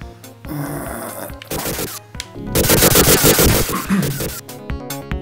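Rapid bursts of gunfire from the Sega Mega Drive game Vectorman clatter loudly in quick repeated volleys with brief gaps, mixed with game sound effects and no talk.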